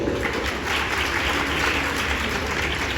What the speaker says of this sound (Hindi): इसलिए आप सभी तालियां बजाइए इन लोगों को